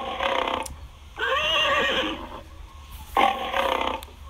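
A horse neighs and whinnies in three separate bursts, each lasting around a second, with short quiet gaps between them, fairly close and clear against a low background rumble.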